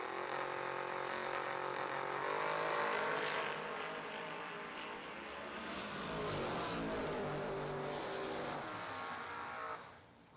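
A Fuel Factory Camaro drag race car runs loud and steady at a drag strip, its engine roaring with shifting pitch before cutting off sharply near the end.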